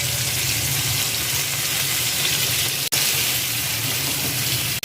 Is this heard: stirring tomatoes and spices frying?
yes